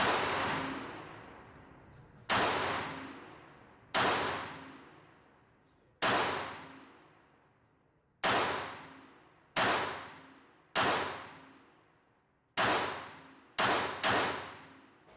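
Repeated shots from a Smith & Wesson Bodyguard 2.0 compact pistol at a range, about eleven loud sharp cracks at irregular intervals, each with a ringing decay, a quick pair near the end, no talking.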